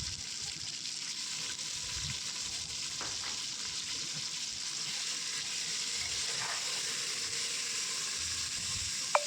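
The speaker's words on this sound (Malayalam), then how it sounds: "നേരത്തെ കഴുകി വെച്ച മട്ടൻ ഇട്ട് കൊടുക്കുന്നുണ്ട്" Washed mutton pieces hit a hot pan of browned onions for a Kerala-style mutton roast, giving a steady, fairly loud hiss and crackle of frying that runs without pause, with a few faint scrapes and no voices.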